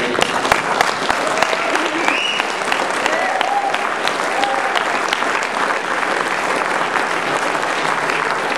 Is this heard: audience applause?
yes